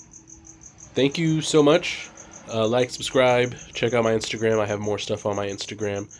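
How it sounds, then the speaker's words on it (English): A cricket chirps in rapid, steady pulses throughout, faint but constant in the background while a person talks over it. "Sorry if you hear this cricket in the background."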